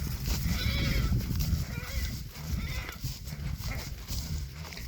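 A stallion let loose gallops off toward a group of mares outdoors, hooves clip-clopping in a steady rhythm at moderate distance over a low rumble, with a brief neigh-like call and no talk.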